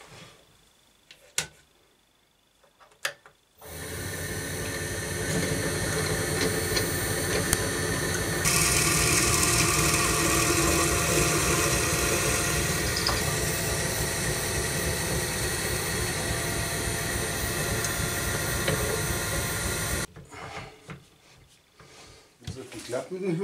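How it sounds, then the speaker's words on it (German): A drill bores a hole into a wooden pen blank held on a lathe, a loud steady whirring grind that runs about sixteen seconds without pause, close up, with brief clatter before and after. "Jetzt probiere ich da mal ein Loch reinzubauen."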